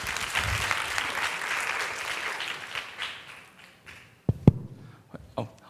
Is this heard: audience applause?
yes